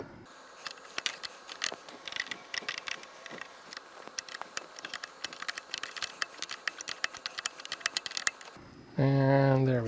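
A nut on a 2021+ Ford Bronco A-pillar ditch light kit is tightened with a 1/2-inch wrench, producing rapid, steady ratcheting clicks close by for several seconds before a voice starts talking.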